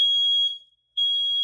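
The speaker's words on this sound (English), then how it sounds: "there go the smoke detector, y'all" A smoke detector shrills with a piercing high-pitched electronic beep, stops for a moment, then sounds again, loud and close indoors.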